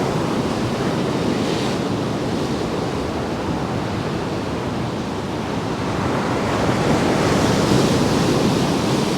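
Ocean waves break steadily on a windy shore at Paphos, a continuous broadband wash of surf with wind rumble, swelling louder toward the end, no voices.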